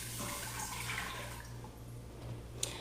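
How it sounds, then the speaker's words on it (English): Chicken broth pours into a pressure cooker holding white rice, a quiet steady liquid splash and trickle with a low background hum and a small clink near the end. "I'm going to add 2 cups of chicken broth."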